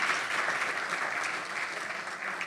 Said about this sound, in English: we need to give them a clap